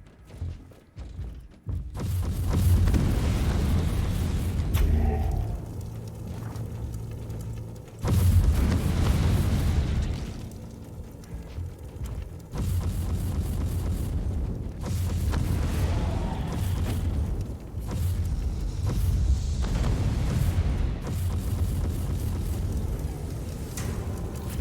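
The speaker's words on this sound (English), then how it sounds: "Wonderful explosion." Explosions in the video game Warhammer 40K Inquisitor - Martyr burst in as a few heavy booming blasts separated by quieter stretches, each with a deep rumbling tail under faint game effects, with no talking.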